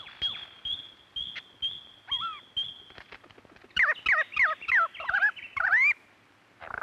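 A lyrebird in an Australian eucalypt and acacia forest calls, starting with repeated bright whistled notes, then launching into a rapid run of varied sweeping, warbling phrases that mimic other forest birds, loud and close with no talking.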